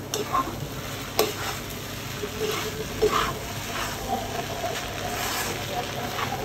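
Noodles with chopped carrot stir-fried in a pan, a continuous close sizzle broken by scraping and tossing strokes of a utensil at an uneven rhythm.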